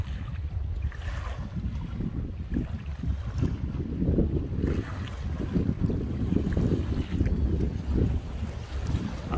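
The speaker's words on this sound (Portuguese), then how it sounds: "Rio São Francisco com esse vento batendo forte aqui, né?" Strong wind buffets the microphone at a quay on the São Francisco River, with low rumbling gusts and faint water lapping beneath it, continuous and without speech.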